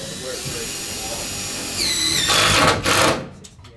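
A power drill whirs briefly, its motor pitch rising and falling over a couple of seconds amid background room noise.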